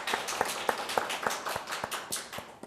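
At a policy forum on suicide prevention, an audience claps to welcome a guest: a run of about ten evenly spaced, moderately loud hand claps with no voices over them.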